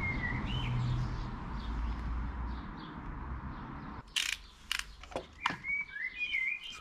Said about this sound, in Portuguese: Esse passarinho tá animadão.